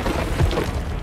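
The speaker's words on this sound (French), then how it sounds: "Cette explosion, c'est toi?" Cartoon explosion from a Hot Wheels Monster Trucks show, a dense low rumbling boom that fills the moment, loud and close with no clear voice over it.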